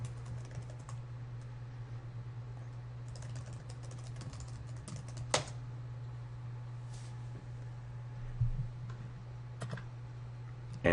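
Soft, fast keystrokes on a computer keyboard enter a username and password, faint and steady clicking under a low electrical hum, with a couple of louder taps standing out.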